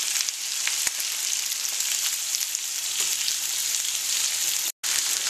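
A pork shoulder blade steak sears in a hot iron pan with a loud, dense, even sizzle that carries on throughout. It is close, with one brief dropout near the end and no speech.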